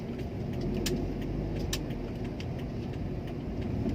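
A 2009 Daihatsu Xenia 1.3 Xi drives on while making a U-turn, its engine a steady, close hum that runs evenly throughout, with a few faint clicks and rattles inside the cabin.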